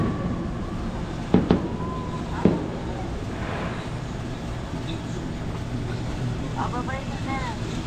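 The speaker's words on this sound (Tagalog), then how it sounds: "may fireworks po sa labas" Fireworks going off outside a condo at night, a few sharp distant bangs sounding early on over steady background noise and faint voices.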